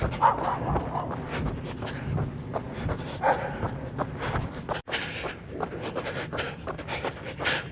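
Dogs barking at a runner out on a road, with repeated barks and yips at moderate distance over steady outdoor background noise and footsteps.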